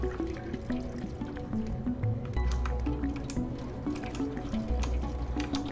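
In the video game Stray, a cat laps water in steady, soft wet slurps that repeat through the moment, with a low tonal game soundtrack playing continuously underneath.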